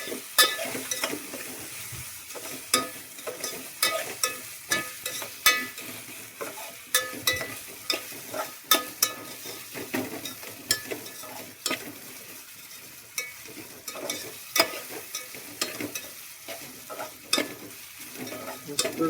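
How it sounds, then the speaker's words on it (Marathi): A spoon stirs and scrapes ginger garlic paste through sizzling biryani masala in a frying pan while making chicken biryani, with steady rhythmic scraping strokes over a continuous close, loud sizzle and no talking. "हा ही आलं लसूण पेस्ट घालायची, 2 चमचे घातलेले. आपण मस्त मिक्स करून घ्यायचं."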